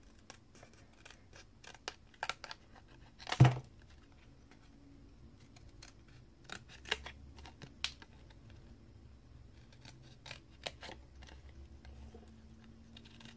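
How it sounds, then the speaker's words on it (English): Scissors snipping by hand around a heat-embossed paper sentiment, producing scattered quiet clicks and snips with one louder snap, close up in a quiet room. "So I'm just going to cut this out quite quickly by eye."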